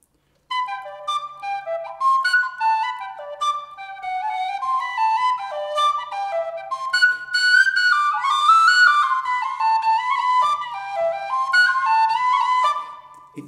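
A tin whistle plays a lively, continuous melody of quick ornamented notes, clear and close, with no voices over it.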